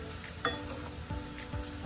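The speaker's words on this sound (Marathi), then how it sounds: "सतत हलवत राहायचं, मग पुढं गूळ तसाच राहतो." Jaggery is stirred in a hot pan for fried modak filling, giving a soft steady sizzle with faint scraping of the spoon and a few small clicks, quiet and close.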